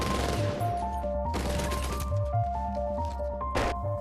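Gunfire in a parking-lot shootout: a couple of sharp, loud bursts of shots ring out over a tense, sustained musical score.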